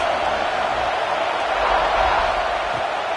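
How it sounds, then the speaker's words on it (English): Steady, dense roar of a stadium crowd in the College Football 26 video game, a continuous loud wash with no breaks across the clip. "This crowd trying to make life miserable for this offense."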